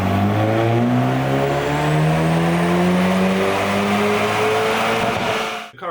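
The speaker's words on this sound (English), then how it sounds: "let's go ahead and run the car again one more time with JB4 set to map 0" A Hyundai Veloster N runs on a dynamometer with its JB4 tuner set to map 0. The loud engine roar climbs steadily for several seconds, then cuts off abruptly at the end.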